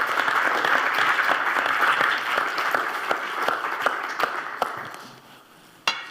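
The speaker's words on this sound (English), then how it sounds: "A round of applause." An audience applauds a speaker at a talk on sustainable, healthy food, a dense sustained clapping that thins out and fades, with one sharp clap near the end.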